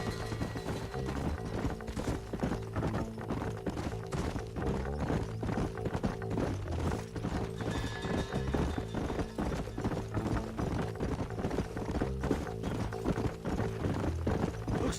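Horse hooves clip-clop steadily in the video game Red Dead Redemption, a continuous rhythmic trot lasting throughout under a layer of sustained music or ambience, with no speech.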